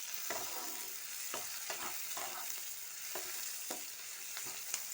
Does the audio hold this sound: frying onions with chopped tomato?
yes